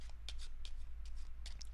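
A pack of playing cards being shuffled at a card magic table, giving a series of crisp riffling bursts in quick succession, close and clear with no talking.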